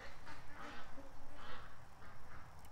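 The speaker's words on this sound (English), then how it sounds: "Probably lots of quacking sound." Ducks quacking while feeding at a feeder, a run of repeated nasal calls at moderate distance over a muffled outdoor background, with no talking.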